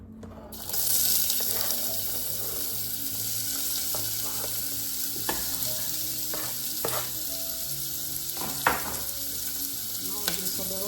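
Chopped onion sizzles and fries steadily in hot oil in a pan, a loud continuous crackle starting after a second, with occasional clinks and stirring knocks from utensils; no talking.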